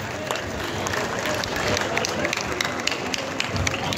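Steady crowd applause at a business meeting in a hall in Bhilwara, Rajasthan, a continuous dense patter of many hands with voices mixed in.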